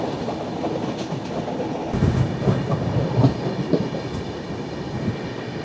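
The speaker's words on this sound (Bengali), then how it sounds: "আমাদের ট্রেন ধারওয়াদ থেকে ছাড়লো" The Vasco–Secunderabad Express rolls along after leaving Dharwad, a steady rumble with rhythmic clickety-clack from the wheels, heard from inside the carriage with no talk.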